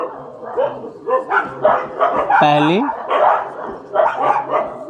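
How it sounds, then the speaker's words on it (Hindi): Dogs bark and yelp outside, with one drawn-out whining howl midway, all heard under steady, continuous speech in the foreground. "बाहर कुछ ज़्यादा ही हल्ला हो रहा है, कुत्तों को झुंडने लगता है"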